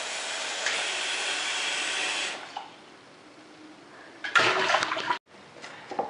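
Lukewarm tap water runs hard from a kitchen faucet, then eases to a softer trickle before a second strong burst of flow is briefly shut off and restarted, close and loud throughout.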